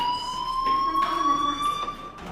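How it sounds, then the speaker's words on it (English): A fire alarm rings inside the video game Life Is Strange, a steady electronic tone held throughout at moderate loudness with faint room noise behind it. "Hey, do you hear that fire alarm?"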